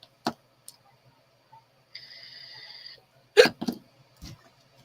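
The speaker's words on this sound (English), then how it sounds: "I've been fighting hiccups off and on all day." Short hiccup-like bursts from one person, a few scattered sharp catches close up with a brief tonal hum between them, otherwise quiet.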